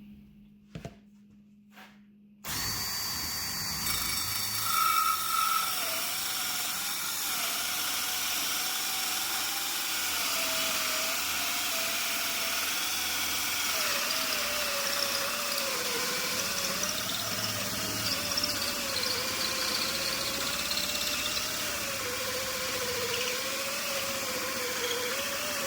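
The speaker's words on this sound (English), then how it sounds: "So let me go ahead and drill my 2 cup holes." A power drill bores two cup holes for a DIY couch sleeve, its motor whirring loud and continuous close by after a brief quiet start, the pitch wavering as it cuts.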